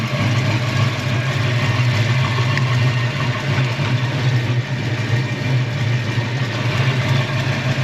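A Ford Mustang Fox body engine idles steadily after a distributor install, a close, continuous low rumble holding an even level throughout with no revving and no talk over it.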